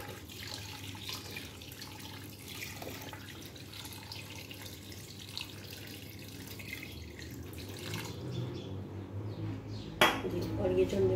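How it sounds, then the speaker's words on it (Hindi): Water pours from a tap into a metal pot of chicken for boiling, a steady splashing rush with faint clinks of cookware, fairly quiet, with a sharper clatter near the end. "पानी हम इतना डालेंगे कि चिकन अच्छे से जो है बॉयल होने के लिए इसमें डूब जाए।"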